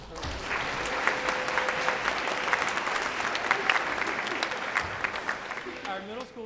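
Sustained, dense clapping from a concert audience honoring middle and high school honor chorus students, steady and full for several seconds before thinning slightly at the end.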